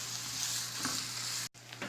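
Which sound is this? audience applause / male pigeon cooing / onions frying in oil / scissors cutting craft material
onions frying in oil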